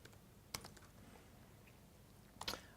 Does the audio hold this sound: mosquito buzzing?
no